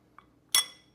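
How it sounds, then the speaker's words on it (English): A spoon clinks inside a glass of whiskey and syrup while the drink is stirred. A faint tap is followed by one bright, ringing clink up close, with no talk. "I give it all a stir before I add the ice, just to try to mix that syrup"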